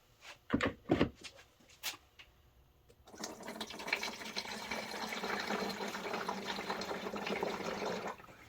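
Coolant pours into the radiator of a 1999-2004 Nissan Xterra V6. A few sharp clunks and taps of handling come first, then a steady, close, rushing stream of liquid runs for about five seconds before stopping, with no talking.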